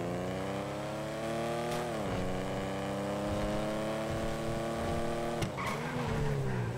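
Car engine driving in GTA, a steady, fairly close drone with layered harmonics that dips and rises with gear changes and throttle, with a brief skid-like scrape near the end.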